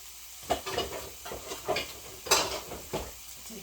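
Ham frying in a pan gives a soft steady sizzle, broken by several quiet clinks and scrapes of a utensil against the cookware.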